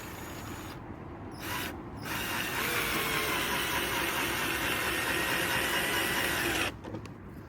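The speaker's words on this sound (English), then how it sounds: "I'm going to have to screw it in as I go, otherwise that bit of wood will move about" A power drill drives screws into wood while a rabbit run is repaired. The whirring, ratcheting motor runs steadily and close for several seconds, with brief pauses at the start and the end.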